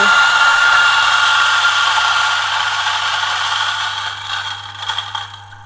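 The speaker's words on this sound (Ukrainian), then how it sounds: "запускаю кавомолочку" A DF64 Gen 2 coffee grinder runs through a small dose of coffee beans: a steady, loud, close motor whir with gritty grinding, tapering slightly and turning uneven near the end as the beans run out.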